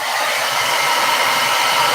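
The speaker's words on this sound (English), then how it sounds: "Heat gun. No. Hair dryer." Hair dryer blowing continuously on art journal pages, a steady loud whooshing hum with no other sounds.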